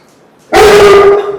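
A dog gives a single loud, sustained bark or howl close by, starting abruptly after a short quiet lead-in and trailing off at the end.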